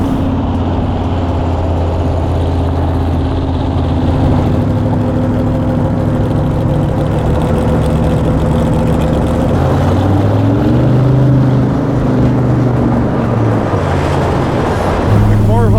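A garage-built Chevy Nova SS pro-street muscle car rumbles loudly and close while driving, its deep, steady engine drone shifting pitch slightly as it moves along.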